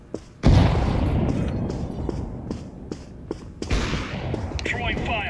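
A grenade goes off in Counter-Strike 2 with a sharp, loud blast early on, then a rumbling tail under scattered gunfire, footsteps and clatter, and a second burst near the end.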